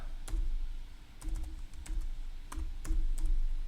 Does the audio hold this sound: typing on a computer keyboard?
yes